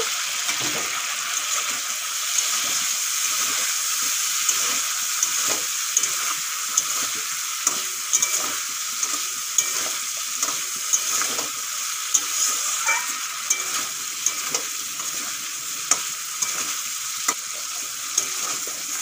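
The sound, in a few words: fried potatoes stirred and frying in spiced masala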